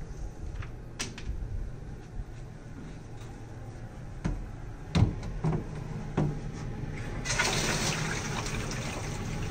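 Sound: jug being filled with water

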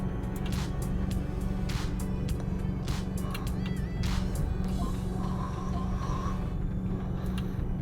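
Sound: Isuzu D-Max pickup truck driving

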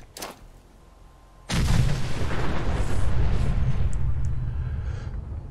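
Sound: nuclear alchemy bomb explosion in video game Fallout 4

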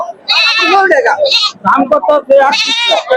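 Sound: goat bleating

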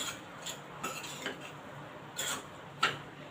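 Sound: stirring salt into vegetables in a pan

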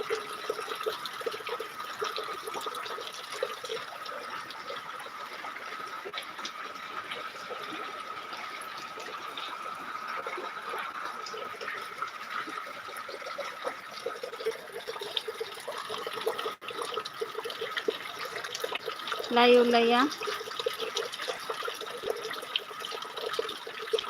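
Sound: heavy rain pouring from roof gutter in a village

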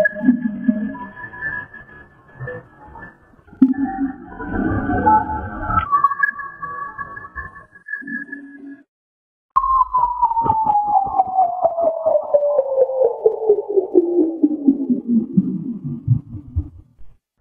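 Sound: BLC1 radio signal recording with Doppler shift

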